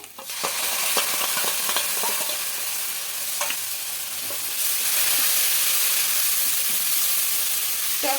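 Biryani masala and sour yogurt are stirred and fried together in a pan for hilsa biryani, producing a constant hissing sizzle with occasional scraping strokes that grows slightly louder midway.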